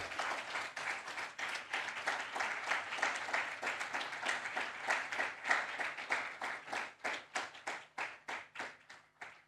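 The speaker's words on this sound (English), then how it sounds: "May we have a warm round of applause" Audience at a keynote event in a hall gives a warm round of applause, a dense sustained clapping that gradually thins into distinct individual claps near the end.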